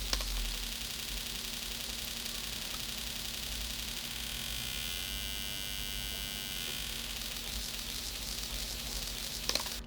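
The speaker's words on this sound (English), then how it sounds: "if we will change it for pink noise" Steady pink noise synthesized in SuperCollider, a continuous broadband hiss with a faint low electrical hum beneath, even in level from start to finish with a couple of tiny clicks, no voices.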